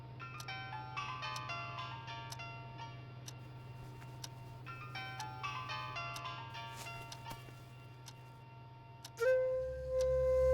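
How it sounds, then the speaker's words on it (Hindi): A cheerful electronic ringtone melody plays in repeated phrases over a steady low hum, then cuts off abruptly and a louder tone takes over. "आपका फोन बज रहा है।"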